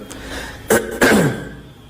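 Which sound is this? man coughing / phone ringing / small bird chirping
man coughing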